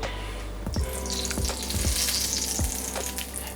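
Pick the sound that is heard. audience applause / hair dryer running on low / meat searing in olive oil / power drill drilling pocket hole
meat searing in olive oil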